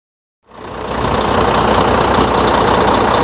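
A Volvo FMX 400 truck's diesel engine starts after a moment of silence, then settles into a loud, steady, low-pitched rumble close by.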